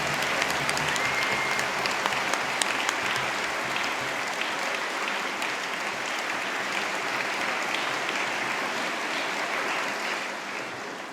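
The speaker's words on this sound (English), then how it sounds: "I think you should give yourselves another round of applause" Graduation ceremony audience giving a sustained round of applause, dense steady clapping from a large crowd filling the hall for about eleven seconds before easing slightly at the end.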